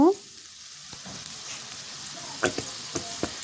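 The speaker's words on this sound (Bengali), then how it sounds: "এখন সুন্দর করে নিয়ে মশলাতে মিশিয়ে নিব" Fish curry spice paste of ground coriander, garlic, ginger and cumin is stirred in a hot pan, giving a low sizzle with a brief tonal sound at the start and a few spoon scrapes and taps toward the end.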